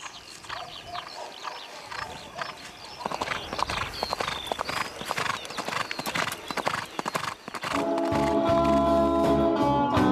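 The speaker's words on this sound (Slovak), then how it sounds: "alebo sadnem na koňa" A horse being ridden clip-clops in a steady rhythm of hoofbeats that grows louder partway through, with an occasional neigh and a brief bit of background voice, before a tonal musical sound comes in near the end.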